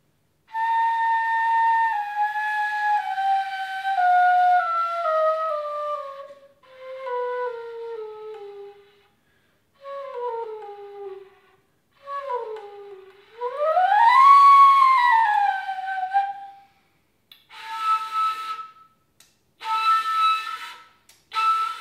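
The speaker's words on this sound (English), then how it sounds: "I'm gonna play for you some whistle sounds on the clarinet without mouthpiece and barrel." Bb clarinet played without its mouthpiece and barrel, producing a series of pure whistle-like tones, some held and gliding downward, others swooping up and down, with short pauses between phrases and no talking.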